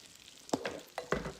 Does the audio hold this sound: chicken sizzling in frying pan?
yes